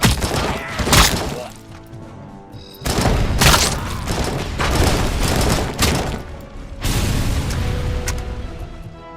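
AK rifle fire in Robocop: Rogue City rattles out in long, dense bursts, loud and close, broken by short pauses, with booming impacts and shattering debris mixed in.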